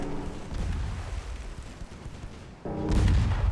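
Naval secondary guns firing from warships in the 1903-era game Ultimate Admiral Dreadnoughts, booming artillery reports and rumbling blasts that swell again toward the end, with no voices.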